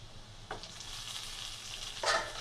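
Tomato tipped into a pan of frying onions for chicken curry, a soft continuous sizzle with two brief hissing flares as pieces hit the hot oil, fairly quiet and without voices.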